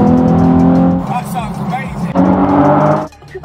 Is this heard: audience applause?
no